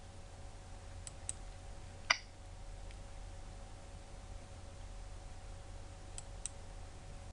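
A computer keyboard gives off a handful of faint, isolated key clicks over a steady hiss while someone types out C++ code. One tap stands out more sharply near the middle, and long quiet gaps separate the others.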